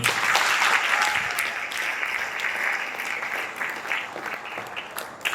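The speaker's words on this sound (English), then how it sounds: "Can we give them a round of applause?" Sustained applause from a school assembly audience, a steady wash of many hands clapping that stays fairly even and loud throughout, with no talking on top.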